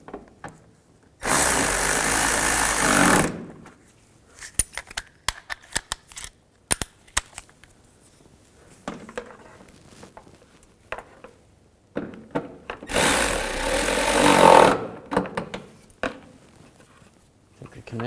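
Two 10mm bolts are tightened on a 2013-19 Nissan Sentra fog light. Two loud bursts of a power driver run near the start and near the end, and light clicks and handling noises fall between them.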